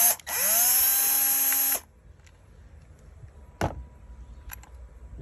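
A power driver spins out a Torx 30 screw from an engine bracket on a Volkswagen Golf 1.6L diesel, a loud high whine lasting under two seconds, followed by quiet workshop ambience and a few faint clicks.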